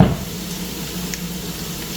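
Spam fries in a pan while cooking Spam menudo, giving a steady, even sizzle that runs the whole time at moderate loudness, with a brief louder burst right at the start and no talking.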